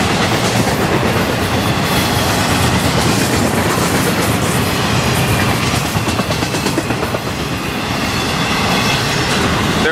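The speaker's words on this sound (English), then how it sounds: "And we have intermodal freight coming up." Loud, steady rumble and clickety-clack of an FEC intermodal freight train passing close by in Sebastian, container cars rolling past with faint wheel squeal and no talking.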